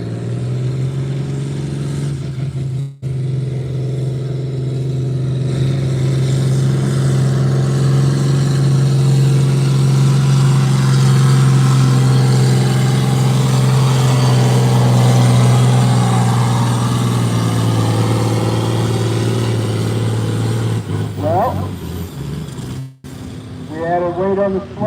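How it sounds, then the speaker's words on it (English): A John Deere 4010 tractor pulls a weighted sled, its engine holding a loud, sustained droning roar for about twenty seconds before easing off, with faint voices in the background. "we've got Moses Turner hooked up to the sled on a John Deere 4010"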